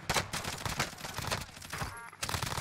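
Rapid gunfire from the video game Warzone rattles in dense, continuous bursts for nearly three seconds, with a brief lull before the shooting resumes.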